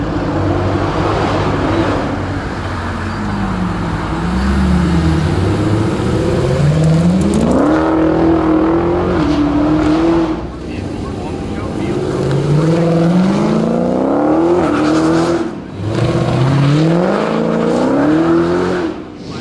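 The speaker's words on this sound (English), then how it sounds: "it's your chance to ride in one of these sensational 707 horsepower Dodge Hellcats" Several 707-horsepower Dodge Hellcat cars roar at full throttle at a Chrysler car show event, loud engine tones rising and falling in repeated acceleration sweeps with brief dips between passes.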